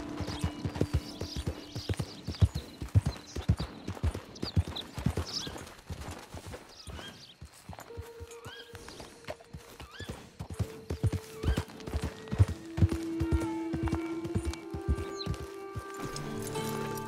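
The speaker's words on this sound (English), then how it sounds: "You're quite the horse." Horse hooves clip-clop at a gallop in Red Dead Redemption 2, a dense rhythmic drumming with a whinny near the start, close and steady over game music and ambience that swell toward the end.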